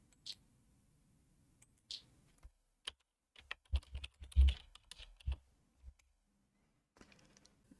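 Quiet, irregular clicking of keys on a computer keyboard, with a few isolated taps followed by a short burst of typing and a faint pause before a last soft patter.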